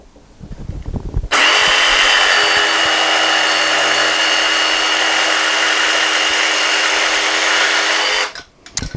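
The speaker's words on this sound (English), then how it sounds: "Now we'll cut the same material with the same blade. With a DeWalt." A DeWalt DCS331 cordless jigsaw cuts through material at its lowest speed setting, giving one loud, steady buzzing whine of about seven seconds that starts abruptly and stops cleanly, with faint handling noises before and after.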